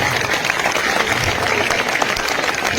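Children in a school audience at an Independence Day function applaud continuously, a dense, steady clatter of many hands that stays even and fairly loud throughout.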